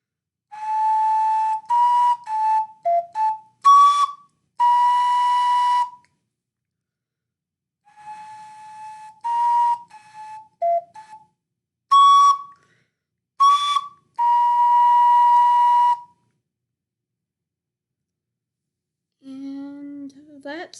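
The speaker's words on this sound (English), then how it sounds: "that's how you play the song Elegy of Emptiness from the video game called Majora's Mask" An ocarina plays the Elegy of Emptiness tune from the video game Majora's Mask, with clear sustained whistle-like notes in short phrases separated by pauses, close and solo. A brief low tone sounds near the end.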